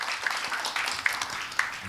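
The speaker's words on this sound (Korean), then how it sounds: "박수로 환영했습니다" Audience applause at a Korean book concert for a seminary book on Revelation, welcoming a speaker; soft, fairly distant clapping with a few sharper claps standing out.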